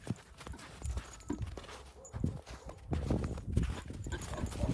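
A young working stallion's hooves clip-clop at a walking pace on a hard surface, the uneven steady steps fairly close amid faint outdoor noise.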